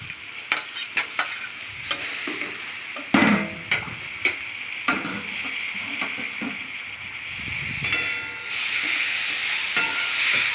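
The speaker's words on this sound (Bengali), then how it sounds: "ভালো করে মিশিয়ে নিলাম নাড়াচাড়া করে, নাহলে চিনিটা লেগে যাবে" Sugar and boiled mango pieces stirred in a pan for mango pulao, with repeated scraping strokes of a spoon over a steady close sizzle and hiss that swells louder near the end.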